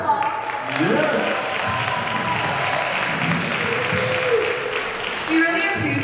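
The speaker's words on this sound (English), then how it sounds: "Give yourselves a round of applause." Audience applause and cheering after a performance at a 2019 concert, a steady wash of clapping throughout with some crowd voices mixed in.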